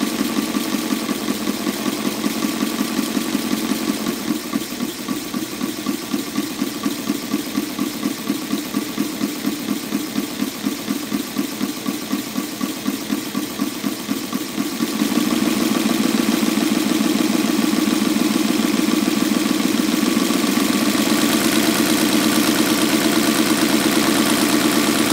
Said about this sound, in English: this time showing the engine running with no flywheel at all, just the crankshaft acting as the flywheel on it